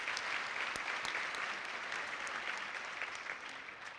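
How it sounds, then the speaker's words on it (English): An audience at a women's foundation annual luncheon applauds the staff, steady dense clapping filling the room for several seconds before slowly tapering. "I also would love a round of applause for the hardworking staff of the Iowa Women's Foundation"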